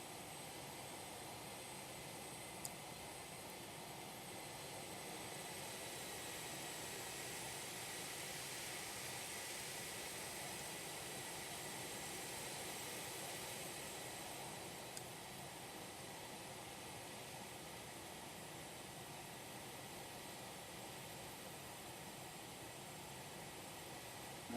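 Phenom 300 corporate jet on short final in X-Plane 12, a steady broadband jet engine roar with airflow hiss, constant and moderately loud with no talk.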